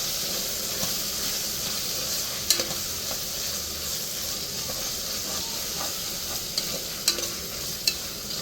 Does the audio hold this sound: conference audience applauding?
no